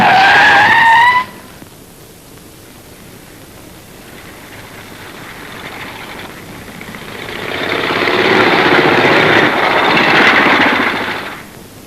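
A truck in an old Bollywood film scene brakes hard, opening with a loud, high screeching skid, then a lower rumbling engine and tyre noise that swells again into a long grinding slide before cutting off.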